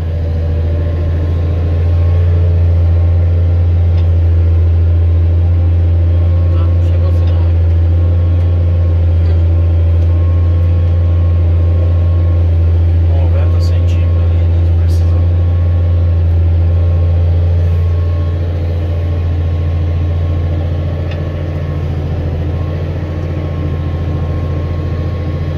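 A subsoiling tractor engine running steadily at about 1,700 rpm in a field, a strong low drone holding constant and close throughout with only slight variation, no voices.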